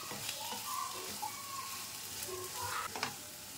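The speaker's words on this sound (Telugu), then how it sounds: "పచ్చివాసన పోయే వరకు ఫ్రై చేసి లిడ్ పెట్టి ఫ్రై" Methi curry with coriander powder fries in a pan, giving a steady sizzle with occasional scraping stirs and a sharp clink near the end. No voices are heard.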